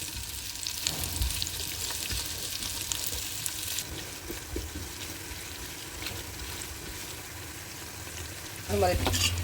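Onions frying in a pan for a chicken pulao, a steady soft sizzle with occasional stirring scrapes, a faint bit of water noise near the end, and no talking.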